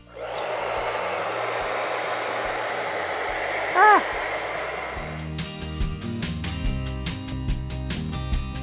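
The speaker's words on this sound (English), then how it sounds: "you can speed up the process by using a hairdryer" A hair dryer blows with a steady, loud whooshing roar for about five seconds, then stops and gives way to faint rhythmic clicking and tones.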